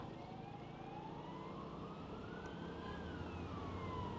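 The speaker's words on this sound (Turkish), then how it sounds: "Ambulans sahil yolundan da bu arada çok fazla ambulans geçiyor." A distant ambulance siren wails with a slowly rising and falling tone on a coastal road, carried over steady traffic rumble.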